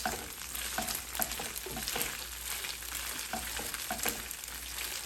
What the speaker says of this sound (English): Now I will add in my fried chicken. Give it a good stir and saute this for around less than a minute.